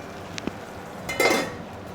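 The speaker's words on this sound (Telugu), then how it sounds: "ఇప్పుడు మళ్ళీ మూత పెట్టుకుని మగ్గించుకుందాం మనం" A lid is set down on a cooking pot of mushrooms and tomato. A light metallic tap comes first, then a louder clattering clink of metal on metal, close and alone.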